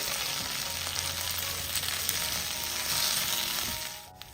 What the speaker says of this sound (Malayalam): ഈ പൊടിയുടെ പച്ചമണം പോകുന്നവരെ ഒന്ന് ഇളക്കി കൊടുക്കാം